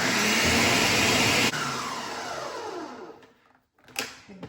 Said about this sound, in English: put it on the blender and start blending them to really as fine as possible